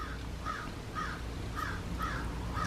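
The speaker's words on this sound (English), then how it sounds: "The crows are going wild right now." Crows caw outside a window, six harsh calls in a steady, evenly spaced rhythm, clear and moderately near over a constant background hiss.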